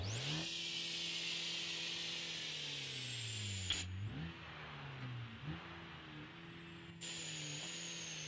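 Engine of an ETK car in BeamNG Drive fitted with a diesel V10+V8, held at a steady high drone that dips briefly and returns, loud and close with no talking.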